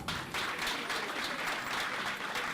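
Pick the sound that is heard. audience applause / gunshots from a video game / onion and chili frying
audience applause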